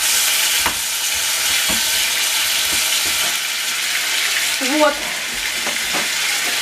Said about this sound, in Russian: Обжариваю кролика.